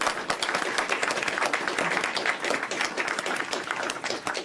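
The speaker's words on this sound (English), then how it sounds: "Let's give her a big round of applause." Audience applause at a new clinic opening on Staten Island in New York City, a steady rattle of many hands clapping in a room, moderately loud and continuous, with no talk over it.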